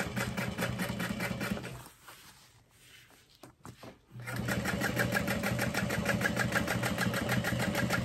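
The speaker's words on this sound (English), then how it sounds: "I can sew through these layers to fold so it looks straight" A sewing machine hums and chatters close by as it stitches through folded layers of a crossbody bag, running steadily, stopping for about two seconds, then resuming.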